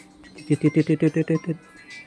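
A phone rings with an incoming customer call: a quick, evenly paced run of about eight bright, buzzing tones lasting roughly a second, then falling quiet.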